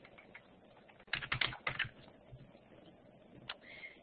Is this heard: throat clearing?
no